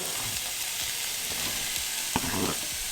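Chorizo and onions frying together in a very large pan, a loud continuous sizzle and crackle with a few stirring knocks, no talking.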